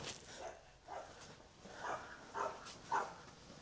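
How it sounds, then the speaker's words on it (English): A dog barks at a squirrel, giving four or five short, moderately loud barks spaced about half a second to a second apart, with no talk over them. "Stop barking at that squirrel."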